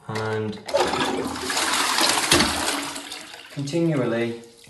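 A newly installed toilet flushes during a bathroom renovation, producing a loud, rushing gush of water that fills most of the clip, with someone talking before and after the flush.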